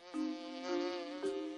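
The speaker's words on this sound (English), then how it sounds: "It looks like you've made a bee friend. A whole swarm of them!" Cartoon swarm of bees buzzing, a nasal droning hum that rises and shifts pitch in three swells, moderately faint, with no speech.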